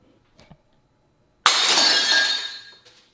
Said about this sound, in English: it also damaged my glass beaker, and now I have to sacrifice it